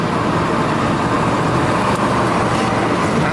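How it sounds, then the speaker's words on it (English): A Chevrolet K10 4x4 stepside pickup with a big-block 396 V8 and a four-speed transmission drives along a road, giving a loud, steady engine drone mixed with road and wind noise. Nobody talks over it. "I want you to hear the motor."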